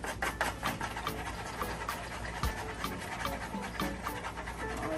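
Rapid rhythmic tapping and clatter of a chopstick beating two eggs in a bowl, close and fairly loud, with steady quick strokes throughout.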